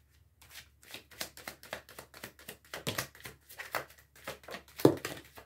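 Tarot cards shuffled by hand give a steady run of crisp riffling flutters and soft slaps, close and continuous for several seconds, with no talking.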